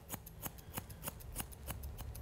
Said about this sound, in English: holding your scissors flat to the side of his head, you're going to take any hair that's overhanging